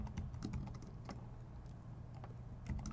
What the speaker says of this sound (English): I'm just going to type in go to and play, or let's do a go to and stop